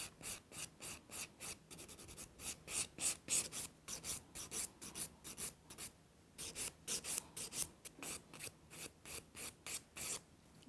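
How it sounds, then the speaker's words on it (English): A nail file works long coffin-shaped nails in quick, regular rasping strokes, close and soft, with one brief pause partway through. "And then you're going to do your finish filing."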